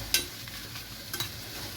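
Ingredients for paruppu urundai kuzhambu sauté in a pan, a soft sizzle broken by a couple of sharp clinks and scrapes from stirring, close and brief.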